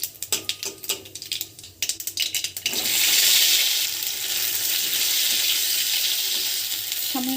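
Whole mustard seeds and a split dried red chilli hit hot mustard oil in a pan, bursting into a loud, steady sizzle that holds for several seconds after some brief clattering.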